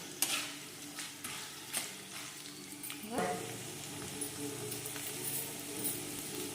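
Peanuts and spices fry in a pan for lemon pulihora, giving a soft steady sizzle with repeated scraping stirs and clinks of a spoon, close and fairly quiet.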